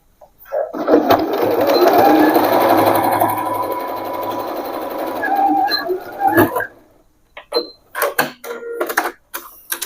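A sewing machine stitches straight pants in a long continuous run, loud and close. It slows near the end, then gives several short stop-start bursts.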